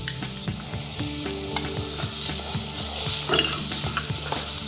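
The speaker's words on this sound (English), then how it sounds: "We stirring until the garlic and shallots, they also get nice flavor and a little bit golden brown color too" Garlic and shallots sizzle in a pan as they are stirred, a bright continuous frying hiss over repeated close scraping strokes of a utensil.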